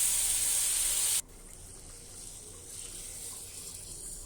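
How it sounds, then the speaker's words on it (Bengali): Lentils (dal) poured into a cooking pot of browned spices: a loud, close hiss for about a second that drops suddenly to a soft, steady sizzle. "এখন ডাল দিয়ে দেব।"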